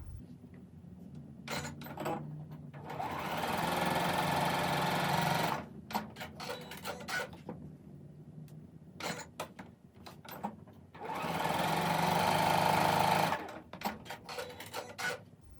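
A sewing machine stitches quilt fabric for a red, white and blue table runner, sewing a quarter inch beside a diagonal line in two long steady runs with a gap of handling noises between them and no talk.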